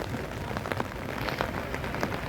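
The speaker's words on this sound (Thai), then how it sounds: "มาฝนรินใหม่แล้วครับเริ่มหนักขึ้นเรื่อยๆนะครับ" Heavy rain pours steadily onto a fish pond, a dense, constant hiss with scattered distinct drop splashes, close and alone with no voices.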